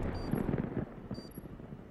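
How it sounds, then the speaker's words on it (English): A grenade explodes in a first-person shooter game, a dense low blast with rumbling debris lasting under a second, followed by fainter crackling and thuds, with no voices. "Grenade out mid."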